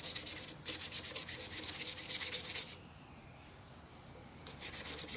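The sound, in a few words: hand sanding a walnut pen blank on a stopped lathe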